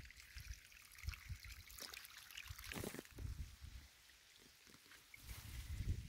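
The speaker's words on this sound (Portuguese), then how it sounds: "Riachinho começando a correr aqui" A small rain-fed stream begins to run at a marshy spring, a faint, uneven trickle of water with soft splashing and outdoor background noise, no talking in the moment.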